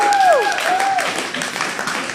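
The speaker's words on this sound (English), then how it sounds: "let's keep the applause going for him on his way in" An audience at a comedy club claps and cheers for a comedian walking on stage, with steady dense applause throughout and a bright whistle-like tone sweeping down near the start.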